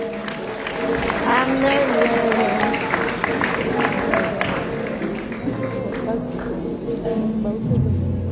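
A celebration crowd claps and cheers steadily throughout, a dense, sustained wash of applause with voices and music mixed in and a person speaking over it.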